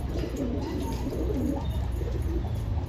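Pigeons coo softly and repeatedly in a low, rolling murmur, fairly close, with steady background hum and no talking.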